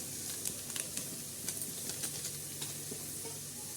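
Black masala sautéing in a pan, a low continuous sizzle with light, irregular spoon scrapes and taps, fairly quiet and close, with no voices.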